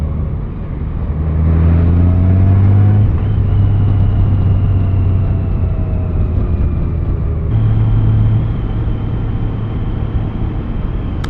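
A Honda Goldwing DCT motorcycle rounds a bend on the road, its engine droning loud and steady with rising and falling tones as it changes gear, heavy wind rush running throughout.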